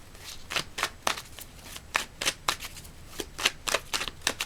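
Tarot cards are shuffled by hand in a quick run of crisp riffling bursts, each a short papery flutter with brief pauses between, close and clear without any talking.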